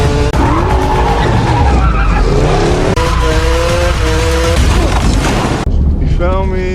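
Car tires squeal and skid loudly during a street chase after a motorcycle, long sustained screeches layered over roaring engines and heavy cinematic impacts, dense and close throughout.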